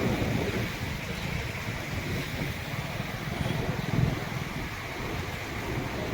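The Tungabhadra river at the Hosapete dam pours out through twenty open gates in a steady, broad, loud roar of rushing water, mixed with wind buffeting the microphone.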